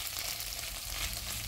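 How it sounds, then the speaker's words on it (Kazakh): Tomato paste frying in a pan, a steady close sizzle with soft crackle and faint stirring throughout, no voices. "томат пастасын қоса қуырдым"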